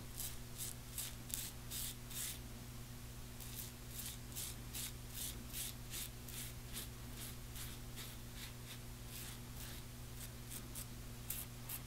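A Rex Envoy safety razor shaving a heavy beard, producing close, rhythmic scraping strokes in quick succession against a steady low hum.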